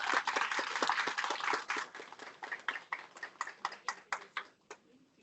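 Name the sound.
audience applause welcoming a speaker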